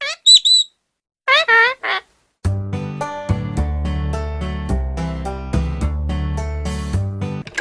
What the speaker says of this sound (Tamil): இது கிளி. இதனோட சத்தம் இப்படி இருக்கும்.